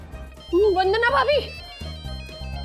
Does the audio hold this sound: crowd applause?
no